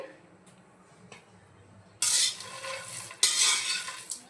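Grated dry coconut and seeds are tossed in a pan for a dry fruits laddoo, with light scraping and small taps at first, then two loud bursts of stirring and scraping, each fading quickly.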